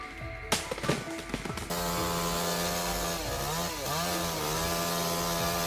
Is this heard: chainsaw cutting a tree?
yes